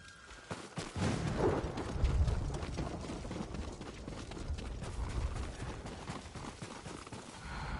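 Horses' hooves clip-clop at a steady walking pace in the Ghost of Tsushima video game, heard through a dense, busy mix of game ambience and effects.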